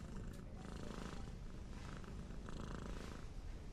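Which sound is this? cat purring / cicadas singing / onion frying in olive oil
cat purring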